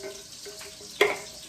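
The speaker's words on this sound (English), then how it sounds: "open your can of tomatoes and you're going to pour it right in your pan." Canned tomatoes poured into a cooking pan for homemade meatballs: a soft, steady wet pouring wash, then a sudden louder splash and slosh about midway that quickly fades back to a gentle liquid trickle, with no talking.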